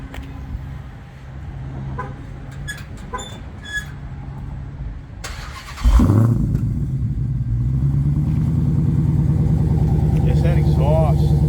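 A powerful engine cranks and roars to life partway through, then settles into a deep, loud rumbling idle; people talk faintly beforehand.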